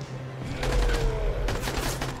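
Gunfire in the zombie game Dying Light, a brief burst of loud close shots with booming low thumps, alone.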